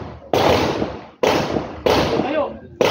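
Gunshots at a Coast Guard K9 shooting range, four sharp, loud reports spaced roughly a second apart, each with a long ringing decay into the open range air.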